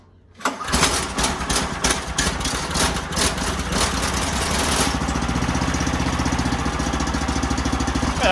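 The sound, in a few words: small gas engine on a mower go-kart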